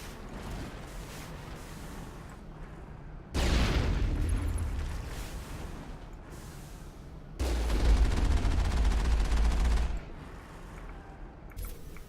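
Enemy gunfire crackles in a Mass Effect battle, with steady distant shooting stepping up into two loud, dense stretches of rapid shots and heavy low rumble, the last one cutting off abruptly before quieter fire resumes.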